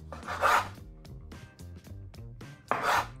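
A knife slices through cherry tomatoes on a board, two louder juicy cuts with softer taps and scrapes between them, close up and without talking.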